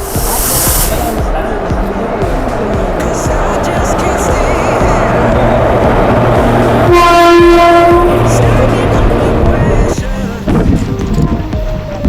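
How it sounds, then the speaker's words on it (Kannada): The Ernakulam Express passenger train rumbles past loudly with a steady roar, then a long sustained horn blast sounds near the end; people talk faintly underneath. "ಎರ್ನಾಕುಲಂ ಎಕ್ಸ್ಪ್ರೆಸ್ಸು ಟ್ರೈನು ಬರ್ತಾ ಇದೆ"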